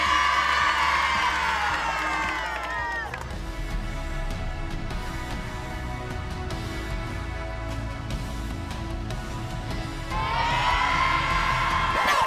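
A crowd cheers and shouts as children are pushed to kiss, loud bursts of excited whooping at the start and again near the end, with a steadier murmur of crowd noise between.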